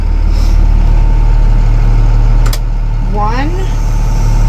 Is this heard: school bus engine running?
yes